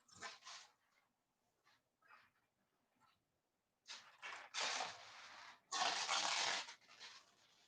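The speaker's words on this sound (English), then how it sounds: "Unhooking my dog here." A female dog barks and whimpers indoors in short bursts: faint yelps first, then louder, sustained noisy barking near the end, with no speech over it.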